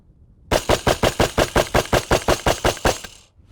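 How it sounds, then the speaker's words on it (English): Rapid 9mm gunfire from an AR platform rifle fed by a Glock magazine, about fourteen loud, evenly spaced shots fired in quick succession with a red dot sight, then a sudden stop. "Let's turn on a red dot and just dump some ammo downrange."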